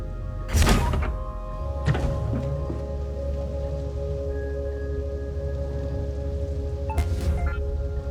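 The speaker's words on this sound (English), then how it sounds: "Install this weapon system so it faces the storage container." A weapon system being installed aboard a ship in the space game Void Crew on PS5, heard as a few heavy, muffled thunks spaced across the clip over a steady low mechanical hum.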